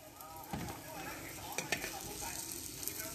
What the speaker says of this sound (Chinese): 慢慢 得啦， 慢慢煎